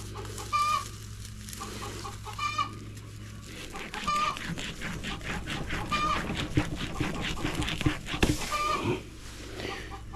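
Chickens cluck repeatedly at close range in a backyard setting, their calls recurring in short bursts over a low steady hum, with occasional handling noise and some background voices.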